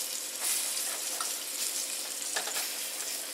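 Fried green tomatoes crackle and sizzle in a lightly oiled pan, a steady hiss with small pops and a faint clatter as the slices are turned, no voices over it.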